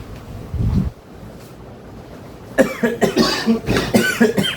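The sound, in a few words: coughing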